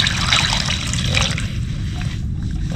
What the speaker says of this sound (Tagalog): Sa hugas pa to ng tubig tabang.